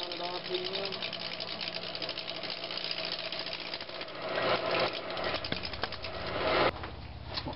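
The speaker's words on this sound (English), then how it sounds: "I've got my roughing gouge. Turning nice and slow. About 700 RPM." A wood lathe turns a scrap-wood vase at about 700 RPM while a roughing gouge cuts it, giving a steady motor whir with rapid cutting chatter that swells louder toward the end.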